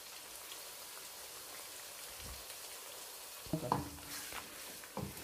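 Onions and tomatoes frying in a pan for an aubergine curry give a soft, steady sizzle, quiet throughout, with a few louder stirring clatters and scrapes of the utensil toward the end.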